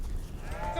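A single sheep bleats close by, the wavering cry rising at the end of a brief moment over low rumbling background noise.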